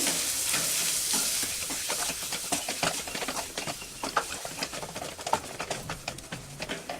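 Mashed potato stuffing for mirchi vada being mixed in a pan, heard as a soft sizzle followed by a quick run of close scraping and tapping spoon strokes against the pan, with no talking.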